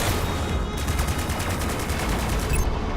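Rapid machine gun fire from a spaceship in the space combat game Strike Suit Zero, a steady stream of evenly spaced shots rattling loud and close for about two seconds over a constant engine rumble.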